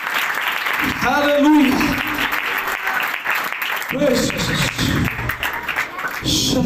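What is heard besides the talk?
congregation clapping applause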